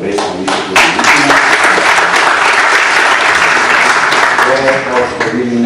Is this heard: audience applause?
yes